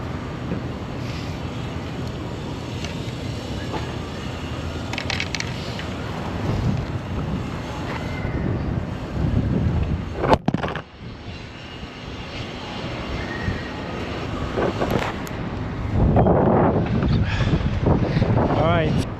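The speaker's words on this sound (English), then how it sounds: "so definitely over 30 miles per hour of wind gust is too much for my setup" Strong gusty wind buffets an outdoor plein air painting setup with easel and camera in winter, a continuous roaring rumble that swells in loud gusts, with some talk over it.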